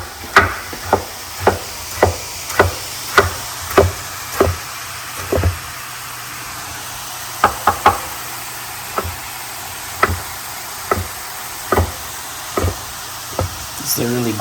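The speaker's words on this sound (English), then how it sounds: "otherwise chopping tomatoes is kind of a pain" Knife chopping tomatoes on a cutting board in a home kitchen: a steady series of sharp, close taps at a regular rhythm, pausing briefly midway before continuing over a faint background hum.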